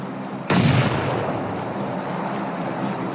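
A grenade blast in PUBG Mobile, heard as one sudden loud burst with a quick broadband boom that fades into a steady low rumble of game ambience.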